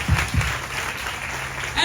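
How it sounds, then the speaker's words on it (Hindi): A church congregation applauds at a pastor's ordination, a brief burst of dense hand-clapping with a couple of low thumps at the start, close and moderately loud, with no distinct words. "तुम सबके लिए ताली बजा सकता हूँ।"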